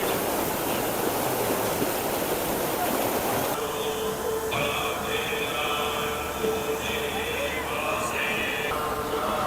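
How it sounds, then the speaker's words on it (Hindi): The Godavari River rushes steadily at Nashik during the Goda Aarti, a dense continuous wash of flowing water, joined midway by sustained tonal sounds from the ceremony. "नदी का फ्लो देखो कितना सही है यार।"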